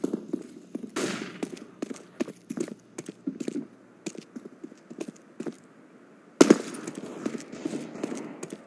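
Rapid gunfire in Counter-Strike: Global Offensive, short cracking shots in irregular bursts, with a loud close blast past six seconds followed by more sharp shots.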